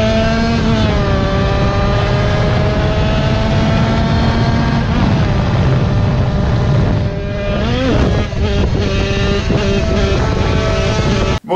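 A loud two-stroke Yamaha DT dirt bike engine roars up close, revving steadily with rising pitch, dipping briefly, then climbing again before cutting off sharply.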